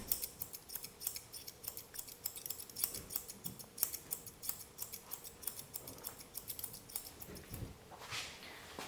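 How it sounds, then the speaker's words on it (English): Grooming scissors snip around the ear of a standard poodle, giving a steady run of quiet, close, crisp metallic cuts in a quick, even rhythm, with no voice over them. "So I can just go scissor around."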